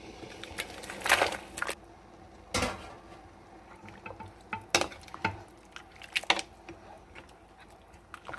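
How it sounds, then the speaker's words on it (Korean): Beef short ribs blanch in a pot of rolling boiling water with sugar and rice wine. The water bubbles and simmers steadily, broken by occasional clanks and stirring knocks from the pot, with no talk. "이렇게 끓는 물에 갈비를 넣었는데 뚜껑을 닫으면 넘칠 수가 있어요."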